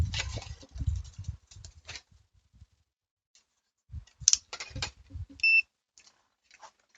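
During an iPad charger dock repair, a multimeter switched to diode mode gives two brief, sharp electronic beeps a second apart. Quiet clicks and handling noises from the probes and bench surround the beeps.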